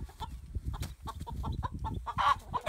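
A freshly killed chicken flops and squawks close by, giving a run of irregular clucking cries and scuffling thumps over nearly three seconds, with no one talking.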